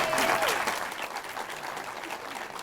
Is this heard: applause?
yes